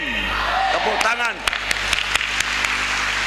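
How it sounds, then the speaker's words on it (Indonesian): An audience in a church service applauds, producing a dense, steady wash of clapping that carries on for several seconds, with voices mixed into it. "Tepuk tangan."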